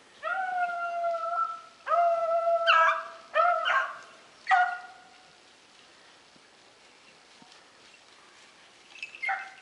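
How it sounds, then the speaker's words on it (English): Hunting dogs bay and howl in several drawn-out bursts over the first few seconds while rabbit hunting, then fall quiet, with a faint yelp near the end; outdoors in snow, moderately distant. "All right, Brad will call the dogs on it."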